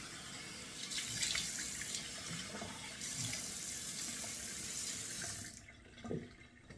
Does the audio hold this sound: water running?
yes